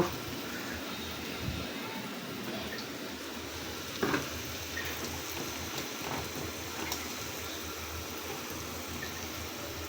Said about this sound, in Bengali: এখন আমরা যে শাক রেডি করে রেখেছি এই শাক দিয়ে দিব